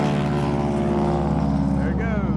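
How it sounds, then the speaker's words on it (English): Loud propeller drone of a North American AT-6 trainer plane passing overhead, a steady harmonic engine roar under a voice. "That's a North American AT-6."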